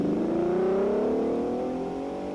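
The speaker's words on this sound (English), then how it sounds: "Let's have a quick listen to the Fezza as it passes through the Ravenna checkpoint." A 1953 Ferrari race car at the Mille Miglia roars past the Ravenna checkpoint, its engine note loud and steady with a rising whine as it sweeps by, no voices over it.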